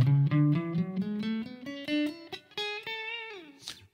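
A guitar scale played one note at a time, each pitch picked once in a steady ascending run of clear, separate plucks, close and alone with no talking.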